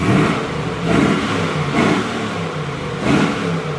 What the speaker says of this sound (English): Let me run the exhaust for you.